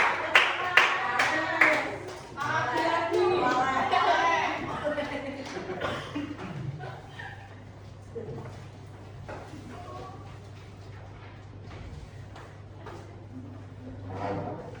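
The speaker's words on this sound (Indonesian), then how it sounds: "beri tepuk tangan terlebih dahulu" A classroom group claps for presenting classmates during a microteaching session, with sharp scattered claps in the first seconds, then voices talking and chuckling while occasional claps and knocks continue in the room.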